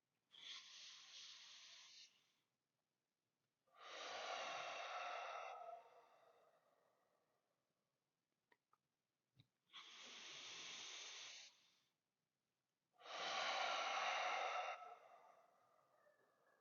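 Slow deep breaths of a guided breathing exercise, each one a long airy inhale through the nose followed by a forceful whooshing exhale through the mouth, four breaths in a steady rhythm, close and clear with quiet gaps between.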